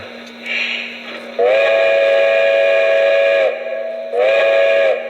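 A Lionel Legacy model Russian Decapod steam locomotive blows a steam-style whistle in two long, steady tonal blasts with a short break between, loud and close, over a low constant hum.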